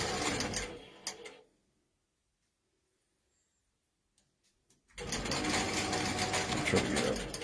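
A longarm quilting machine sews basting stitches with a fast, steady mechanical whirr. It runs for about a second, stops for several seconds, then starts up again, close and clear, with some talk around it.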